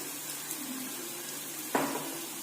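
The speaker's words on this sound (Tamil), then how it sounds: "இது நல்லா ஃப்ரை பண்ணிக்கலாம்" Pasta sauce with chilli powder frying in a pan gives a steady, close sizzling hiss, broken by a single metallic clink of a utensil near the end.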